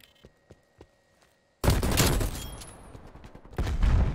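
Frag grenade explosion and gunfire in Call of Duty: Cold War multiplayer, a few faint shots, then a sudden loud blast with sustained rumbling fire and another burst at the end.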